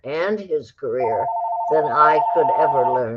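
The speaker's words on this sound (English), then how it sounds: "That's the phone I didn't turn off." A telephone rings with a steady electronic tone during a call, sounding in two bursts beneath and between a man's continuous speech, fairly close and clear.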